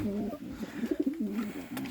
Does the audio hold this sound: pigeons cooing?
yes